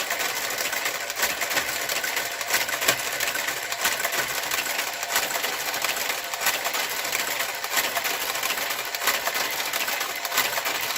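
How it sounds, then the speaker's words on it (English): A knitting machine's garter carriage runs in a continuous mechanical whir with faint clicks, close and steady, the popping from misaligned gate pegs, especially at tension 3, barely standing out from the drone. "You're going to hear some popping noises every now and then with my garter carriage."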